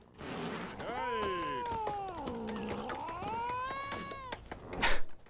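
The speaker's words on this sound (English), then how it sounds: "That cat doesn't like us at all." A cat in The Witcher 3 meows in a long, drawn-out, wavering yowl lasting several seconds, close and fairly loud, with a brief noisy burst at the end.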